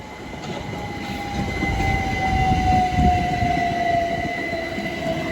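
A Southeastern Class 375 electric multiple unit, 375711, runs through Deal station, its steady rumble of wheels on rail building and holding close by, with a faint whine and brief squeal.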